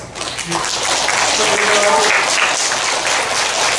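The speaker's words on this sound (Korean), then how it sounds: "박수 한번 쳐주시고" A crowd of audience members applauds at a national oratory and speech contest, producing a steady, dense wash of clapping that lasts throughout, with some faint voices beneath.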